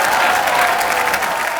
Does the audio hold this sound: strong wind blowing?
no